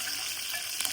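Hot tempering of curry leaves, dried onion and dried red chillies stirred into cooked lentils, giving a steady close sizzle and frying hiss with no talk over it.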